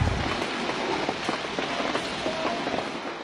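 Heavy night downpour in Ünye, Ordu, steady and dense, rain hammering surfaces with a constant hiss throughout, no voices.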